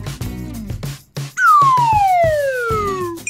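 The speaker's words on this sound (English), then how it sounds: "Yay, another fire truck." A wailing fire truck siren sweeps down in pitch, loud and near, after a run of short rhythmic electronic beats, with no voices over it.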